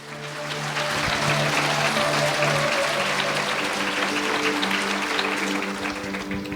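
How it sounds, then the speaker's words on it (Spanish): A church congregation applauds in a steady, dense wash of clapping that swells in and holds for several seconds, with a sustained tonal hum underneath. "fuerte aplausos a Cristo"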